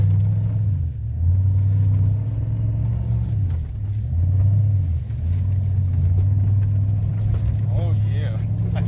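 Pickup truck engine revving hard while stuck, a loud, close, low drone that repeatedly swells and dips in pitch, with people talking over it.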